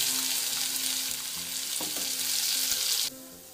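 Red chili powder and masala hit hot oil with a steady, bright sizzle and frying hiss, stirred with occasional clinks, until the sizzle drops off abruptly near the end.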